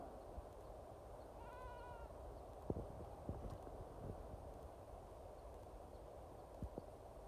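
A mountain goat bleats once, a short wavering cry, amid outdoor ambience with scattered clicks and knocks and a faint steady high tone.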